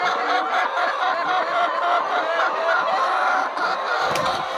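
Backyard egg-laying chickens on a small organic farm keep up a steady, dense chorus of clucks and chortling calls throughout, close and fairly loud with no talk.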